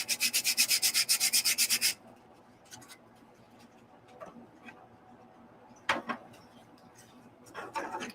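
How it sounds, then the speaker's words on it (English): Rapid rhythmic sanding of a 3D-printed PLA model part for 18 scale RC build, about two seconds of fast scratchy strokes, then quiet handling clicks and scrapes. "That's a PLA bed. That's why it's sanding weird."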